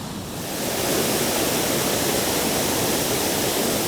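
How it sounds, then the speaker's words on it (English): Fast, churning spillway water running as class 3 rapids, a loud, steady broadband roar that swells in over the first second and then holds constant with no voices. "now we got all this good fast water class 3 rapids fishing"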